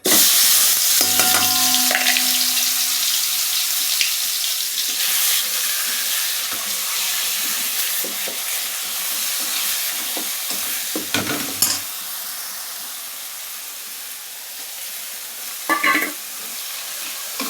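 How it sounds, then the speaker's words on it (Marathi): Whole spices crackle and sizzle in hot oil for tempering Maharashtrian amti dal, a bright hissing burst near the start that fades into a lower, steady fry with occasional clinks and stirring scrapes. "आता हे फोडणी देते बघा"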